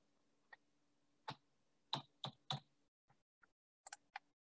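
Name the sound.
pressing the Shift key on a calculator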